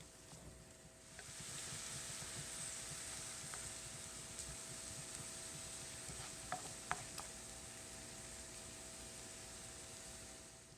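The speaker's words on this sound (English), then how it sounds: "I'm cooking the onions with some olive oil and some butter on a medium heat until the onions become translucent" Onions cooking in olive oil and butter over medium heat in a single pan, giving a steady soft sizzle and hiss that keeps going throughout, with a few faint utensil clicks near the end.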